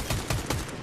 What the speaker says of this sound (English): I think I shot that kid through a wall.